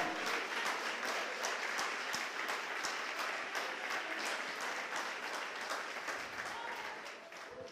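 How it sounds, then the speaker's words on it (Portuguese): Sustained applause from a large church congregation, steady and dense throughout, tapering slightly toward the end. "Você pode aplaudir o Senhor."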